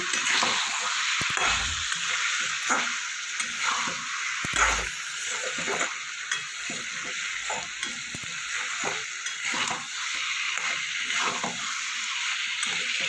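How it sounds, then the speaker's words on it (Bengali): Spiced ivy gourd frying in a pan while being stirred, with a steady sizzle under repeated scraping strokes of a spoon at a regular pace, close and fairly loud. "এবার সব কিছুকে এর সাথে মিশিয়ে নেব"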